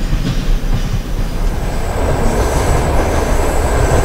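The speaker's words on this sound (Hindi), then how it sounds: "हमारा ट्रेन जैसे ही रुका ये जो डबल डेकर एक्सप्रेस है यार ये डिपार्ट कर चुकी है" A double-decker express train of Indian Railways departing in Trainz Simulator 12, with a loud, steady rumble of rolling wheels on rail and faint rhythmic clatter building slightly in intensity.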